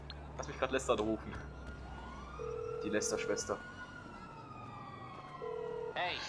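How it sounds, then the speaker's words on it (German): A wailing ambulance siren in GTA Online rises and falls over game sounds, with someone talking briefly near the start and tones cutting in between. "Das ist ein Krankenwagen."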